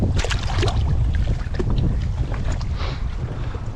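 Strong wind buffets the microphone at Lake Nillahcootie during a fishing outing, a steady, loud, rumbling roar with gusty bursts and no voices.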